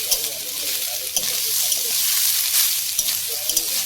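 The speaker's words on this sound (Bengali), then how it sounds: "এবার এর মধ্যে দেবো কুচনো আমন্ডের কুচি, মানে কুচনো আমন্ড বাদাম।" Chopped almonds fry with grated coconut in a pan while being stirred, a continuous close sizzle broken by spatula scrapes and soft clicks, made for a patishapta filling.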